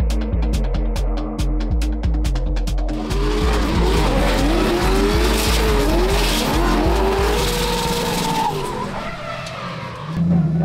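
A turbocharged V8 race car at a season-opening race accelerates hard, its engine note climbing and dropping through several rapid gear changes. Tires squeal and skid, all loud and close, with no one talking.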